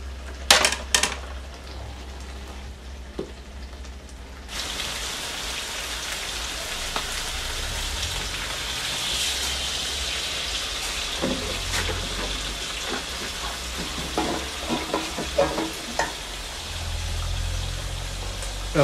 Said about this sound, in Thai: ใส่ปลานะครับ